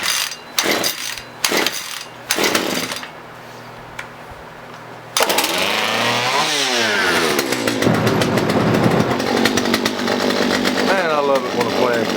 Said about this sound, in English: Now we're going to try to crank it and see what we get.